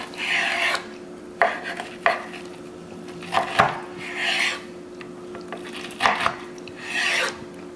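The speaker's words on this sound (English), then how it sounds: "I think we'll cut the whole rack up and just get them off to the side." A knife slices through a rack of smoked ribs cooked in an electric insulated smoker, giving several separate rasping, scraping cuts with short pauses and hard knocks of the blade against the board between them. No one speaks.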